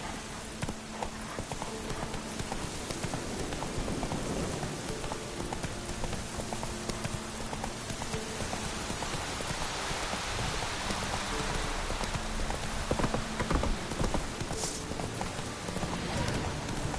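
Geralt's horse Roach gallops in a video game, a steady, close clatter of hoofbeats that runs the whole time over a constant bed of falling rain.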